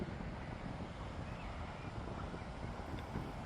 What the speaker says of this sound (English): It's been a nice day, a bit windy now